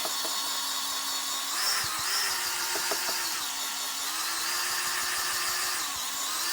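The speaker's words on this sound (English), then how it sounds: "just use my drill and mix it up a little bit" Power drill with a paint mixer attachment stirring Fluid Film rust inhibitor in a drum, a steady close motor hum with slight pitch wobbles and faint thumps of the paddle, heard alone without talk.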